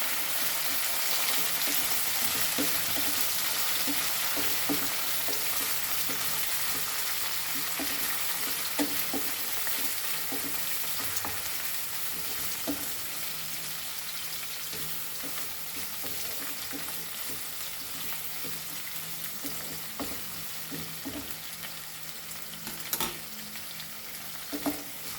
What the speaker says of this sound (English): Fry again this all nicely.